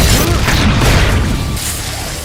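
A grenade trap explodes in an action film, a loud, dense rumbling blast that fills the moment and slowly fades.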